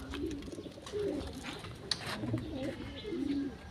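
Pigeons coo softly and repeatedly close by in low, rolling calls, with faint background noise.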